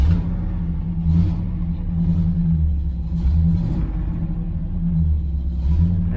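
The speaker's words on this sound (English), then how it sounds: "It's running on bad gas." A 1985 Chevrolet Camaro IROC-Z engine idles on bad gas, a loud steady rumble with a slightly uneven, lumpy pulse and brief surges throughout.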